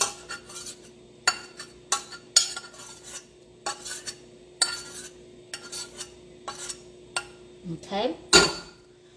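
A spoon clinks and rattles against a glass while a tea and rum cocktail is stirred, in sharp repeated taps at an uneven rhythm, close and clear over a faint steady hum; one brief spoken word comes near the end.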